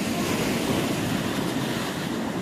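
Rough sea surges against the shore at Ratnagiri beach below Ratnadurg Fort, a continuous loud wash of surf mixed with wind buffeting the microphone, with no talking.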